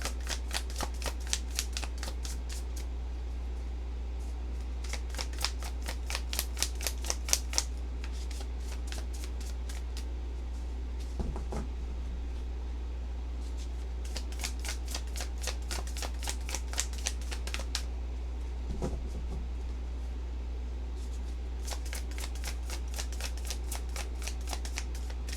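Tarot cards are shuffled in quick riffling bursts of rapid flicks, close by and repeated in several rounds with pauses and occasional soft knocks, over a low steady hum.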